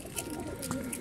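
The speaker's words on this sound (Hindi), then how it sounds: "आप ये कमेंट्स में ज़रूर बताएँ कि आपको राजा यासीन साहब के कबूतर कैसे लगे" Pigeons at a loft with a net trap setup cooing softly in a low, steady murmur, with faint bird chirps and background noise throughout.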